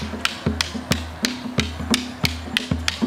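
Rattan sticks striking in a sinawali stick drill, hitting in a fast, steady rhythm of sharp wooden clacks up close, about three per second, with no talk.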